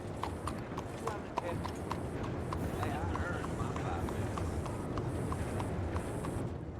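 Horse hooves clip-clop in a steady walking rhythm in Red Dead Redemption 2, close by, with a voice talking over them and faint background ambience.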